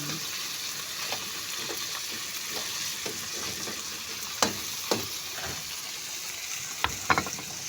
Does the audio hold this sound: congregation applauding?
no